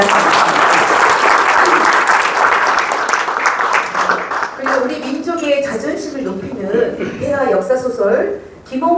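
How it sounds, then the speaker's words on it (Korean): Loud hall applause rises for a novelist at a lecture event and holds strongly for several seconds before thinning into scattered claps, with a speaker's voice coming in over the fading clapping. "다시 한번 박수를 부탁드리겠습니다"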